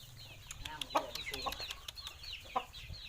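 A breeding gamecock rooster gives a rapid series of close clucks and soft squawks, with faint background chatter.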